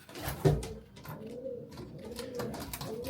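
Pigeons coo in low, soft, rolling calls close by, a clear one near the start followed by quieter repeated coos with some faint clatter in the background.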